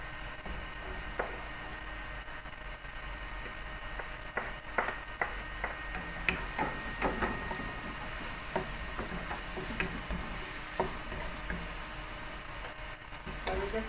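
Carrots frying and being stirred in a pan for hot, spicy egg hakka noodles, a steady close sizzle broken by frequent scraping stir clicks and taps throughout, with no talking.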